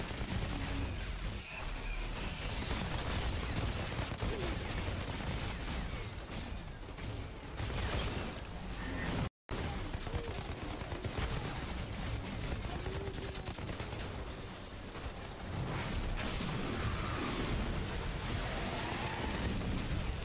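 Dense, sustained enemy gunfire in the shooter game Outriders, a continuous roar of rapid shots and mechanical clatter that fills the whole stretch almost without pause, with one brief dropout near the middle.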